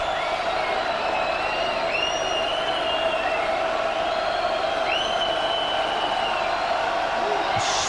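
A packed South Stand crowd at a 1992-93 Leeds v Castleford rugby match jeers a kicker, a steady roar with scattered whistles and shouts rising above it throughout.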